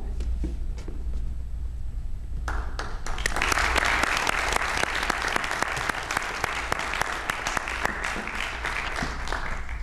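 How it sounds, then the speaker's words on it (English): Sustained audience applause at a university Distinguished Educators Hall of Fame ceremony, starting lighter then swelling after a couple of seconds into dense, steady clapping from a large crowd that continues throughout. "Let's give this group of individuals another round of applause and of appreciation for the work they've completed."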